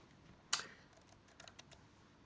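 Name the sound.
typing on a computer keyboard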